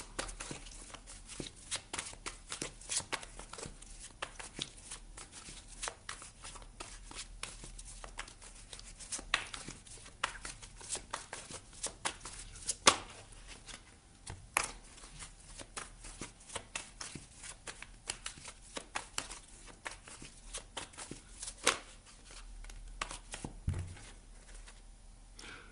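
Tarot cards are shuffled close by for about twenty-five seconds, giving a continuous soft riffling patter of quick papery flicks with occasional sharper snaps, fairly quiet and with no talking.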